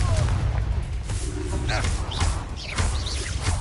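Spell casting and explosions in the Hogwarts Legacy video game: dense booms and blasts layered with whooshing spell effects and shouted character incantations, loud and continuous.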